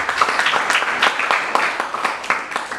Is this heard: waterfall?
no